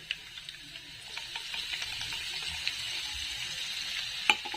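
Ground green chili paste frying with browned garlic in a hot pan for methi bhaji, a steady sizzle with faint scrapes of stirring, rising slightly midway with a sharp clink near the end.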